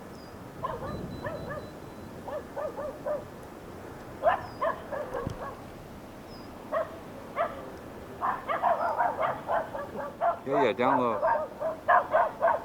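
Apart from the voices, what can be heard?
dogs barking at an RC glider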